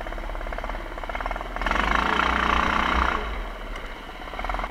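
A Predator 670cc engine on a Yerfdog Spiderbox bogs, its steady low rumble swelling louder for a second or so mid-clip before dropping back to a rough, labouring idle.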